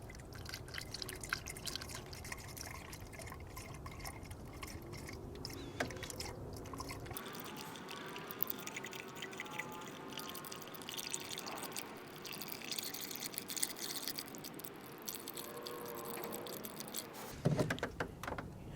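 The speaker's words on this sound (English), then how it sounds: "we only need to top it off until it gets to where those two arrows are" AC Delco Dex-Cool coolant trickles and drips into the reservoir of a Chevrolet Sonic with a 1.4L turbocharged engine, a steady close liquid pour that runs for most of the stretch alone, without any talk.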